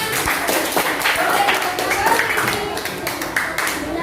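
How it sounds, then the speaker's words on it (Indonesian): Students in an Indonesian classroom clap for a group that has just finished presenting, a brisk burst of many hands with individual claps standing out and a few voices mixed in. "Oke, sip, sudah bagus yang disampaikan kelompoknya Farah dan Diana. Beri tepuk tangan."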